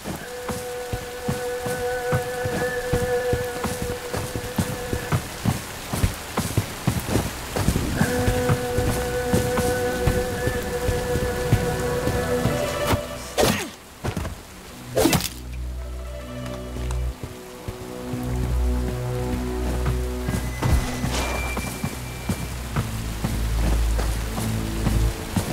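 Steady rain pours over the game world of Bright Memory Infinite, a dense continuous hiss with scattered drips and occasional sharper impacts and thuds mixed in, no voices.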